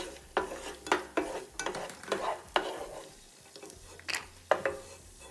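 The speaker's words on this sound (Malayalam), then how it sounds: "കാഷ്നട്ട് വറുത്ത് എടുക്കാം" Cashew nuts fry in oil for a Kerala vegetable biryani, stirred with frequent clinking, scraping strokes in an uneven rhythm over a quiet, close sizzle.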